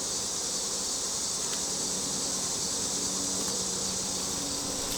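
Agitated honey bees swarm during an open hive inspection, producing a dense, continuous buzzing drone that stays loud and even throughout, with no talking.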